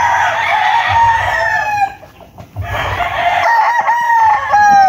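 A young stag rooster crows loudly and close in a Filipino chicken yard, two long drawn-out calls separated by a short gap, with other fowl faintly in the background.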